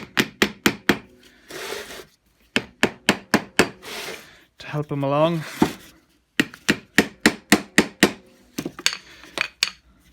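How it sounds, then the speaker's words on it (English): Sharp metallic hammer taps on parts of a seized Pratt Burnerd 3-jaw lathe chuck during disassembly, bursts of quick strikes with pauses, close and loud, with a brief spoken remark between them. "giving these a little tap with the hammer"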